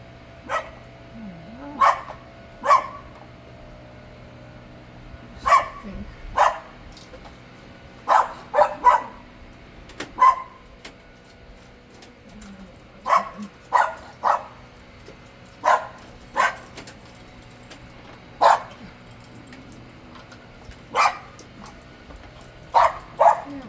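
A dog barks in short, sharp bursts, sometimes doubled, spaced irregularly over a quiet background with a low steady hum.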